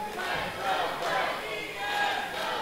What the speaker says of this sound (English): Crowd firmly behind Chris Cook.